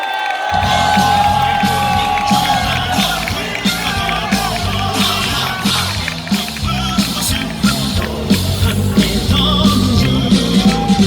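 A large crowd cheers, whoops and yells continuously at a Democratic Party political rally in South Korea, welcoming party leader Lee Jae-myung onto the stage; the roar stays loud and dense throughout, with shouts and bursts of noise rising above it.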